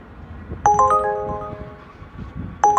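A phone ringtone plays a short, bright electronic chime melody twice, close and clear, over faint background noise.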